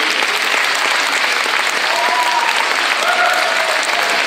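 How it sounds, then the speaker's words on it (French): A full, loud round of applause fills a hall at a poetry evening during a festival in France, dense and unbroken throughout, with faint whistle-like tones rising briefly over the clapping. "Daniel Brandt, là on applaudit Daniel, Guy Samara,"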